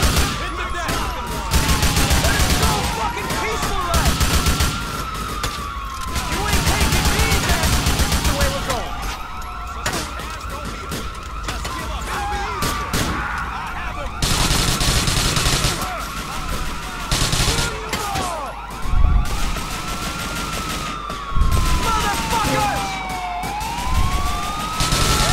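Police sirens wail in repeated rising and falling sweeps while bursts of automatic gunfire and single shots crackle throughout a chaotic shootout in Grand Theft Auto IV, with someone talking now and then.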